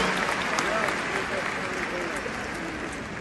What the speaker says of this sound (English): Please give a round of applause to Duraid and Zia.